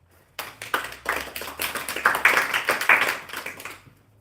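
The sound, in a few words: audience round of applause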